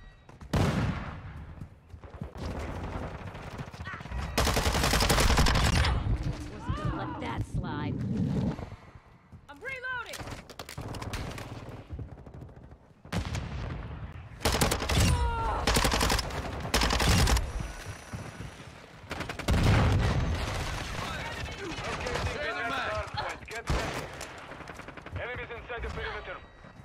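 Rapid bursts of P90 hip fire in Call of Duty: Modern Warfare II ring out loud and close. Stretches of game noise and other action separate the volleys, and a voice talks over the gunfire.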